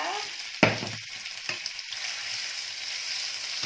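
Stir-frying pork for rad na gives a soft, steady sizzle, opened by a sharp clank and followed by a few utensil scrapes, close and without talk.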